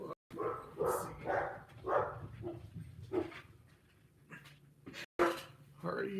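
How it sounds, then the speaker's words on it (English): A dog barks in repeated bursts about once a second, fairly close and loud, then quiets, with a few more sharp sounds near the end and some indoor room noise underneath. "Already getting the dog going wild."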